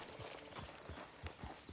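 Horse hooves in Red Dead Redemption 2, a few soft, uneven clip-clop thuds at a walking pace, faint and close, with no speech.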